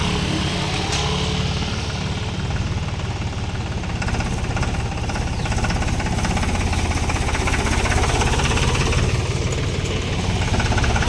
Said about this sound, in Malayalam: ട്രാക്ടർ ഇറക്കുന്നതാണ്ടാ